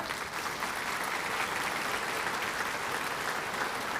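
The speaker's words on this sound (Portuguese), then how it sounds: "Você pode dar uma salva de palmas" An audience at a charity food-drive gathering applauds in a continuous, even wash of many hands clapping, steady in loudness from start to finish with no break.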